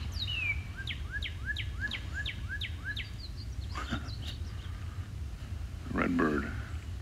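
A red bird sings outdoors, a run of about nine quick, evenly spaced upslurred whistled notes, clear and fairly near, followed by softer chirps. Low, steady background rumble throughout.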